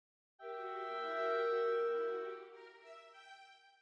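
An orchestral scherzo passage with doubled violins, winds and lower strings swells in as a bright sustained chord, peaks, then fades with a slight tremor at the end, heard alone without talk.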